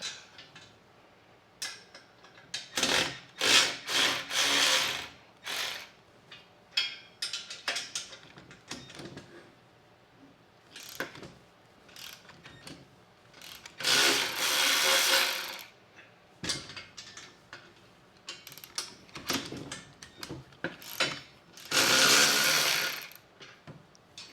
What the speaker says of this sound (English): Let me loosen up these inside bolts real quick.